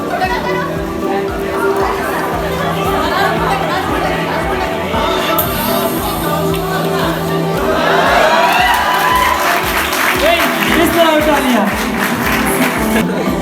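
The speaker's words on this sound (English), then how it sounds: "Great hand clapping for his calligraphy." A classroom crowd of students cheers and shouts with scattered clapping, loud and close, while children's voices chatter throughout and the applause swells noticeably in the second half.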